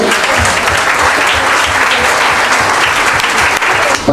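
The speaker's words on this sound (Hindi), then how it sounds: "तालियां बजाकर" A close, loud burst of applause from an audience at a journalism honoring event in Nagpur. The clapping is thick and continuous, then cuts off abruptly near the end.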